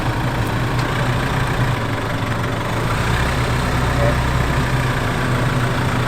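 A 4x4 creeps at crawling pace across sand at McBrides Beach, Forster, its engine idling in a steady, close low rumble that holds unbroken throughout with no other sounds on top.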